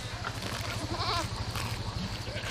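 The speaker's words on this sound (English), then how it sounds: "So we have our ruminant animals out front, like my friend the sheep here." A sheep on a pasture farm bleats close by in one wavering call over a steady low hum of outdoor background noise.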